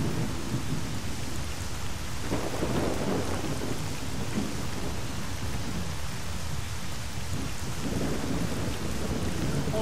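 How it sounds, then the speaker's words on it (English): A video game thunderstorm: heavy, continuous rain hiss with deep rolling thunder swelling around two and eight seconds, loud and unbroken, with no voices. "the thunder is messing with my ability to hear mutants"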